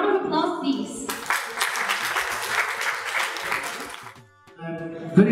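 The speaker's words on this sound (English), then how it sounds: "A round of applause, please." Audience applause breaks out at an art exhibition evening in Singapore, a steady burst of clapping lasting about three seconds that fades out, with voices talking before and after it.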